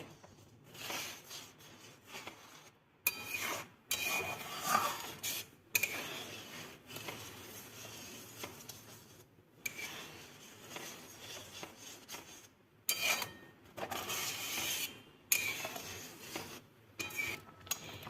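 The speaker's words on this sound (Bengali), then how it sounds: "ভালো করে নাড়তে হবে, না হলে নিচে লেগে যাবে।" A spoon stirring cauliflower kheer (payesh) in a pot: continuous scraping and rubbing against the pot bottom in uneven strokes, broken by brief pauses.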